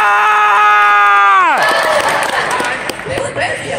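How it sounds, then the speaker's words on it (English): One side of a school event crowd cheers and shouts, starting after a sustained tonal whistle that drops off sharply, then rising into a ragged roar of voices and scattered claps. "I'm going to need my side to make some noise."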